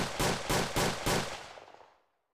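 Six rapid gunshots in a quick volley under two seconds, sharp evenly spaced cracks with the last one trailing off into a fading echo, recalling the March 30, 1981 shooting in Washington, D.C.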